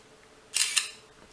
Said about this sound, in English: So I just took a picture of what was in front of me.